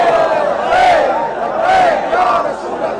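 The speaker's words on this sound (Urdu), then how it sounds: "عاشق رسول یہ کھڑے ہیں اول تا آخر ہاتھ اٹھا کر نعرے لگا رہے ہیں" A rally crowd chanting religious slogans with raised hands, loud massed voices rising in repeated call-like swells, about two or three surges over a few seconds.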